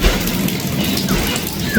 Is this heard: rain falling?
yes